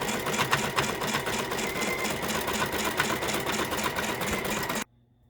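An embroidery machine rapidly stitches fabric to stabilizer in the hoop, a close, steady mechanical chatter with regular needle ticks that stops abruptly near the end.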